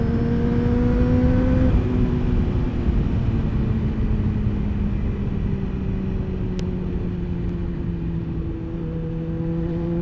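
A Honda CBR 600 sport motorcycle engine drones at high revs while riding, with shifting pitch and a constant roar of wind rushing past, loud and close throughout.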